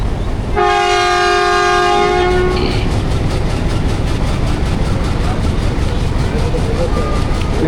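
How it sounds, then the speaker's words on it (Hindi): A Millat Express passenger train pulls out of Tinga railway station, its horn blaring for about two seconds before steady, loud clickety-clack of wheels on rails and car rumble take over, heard from on board. "मूव हो रही है ट्रेन हमारी टिंगा रेलवे स्टेशन से"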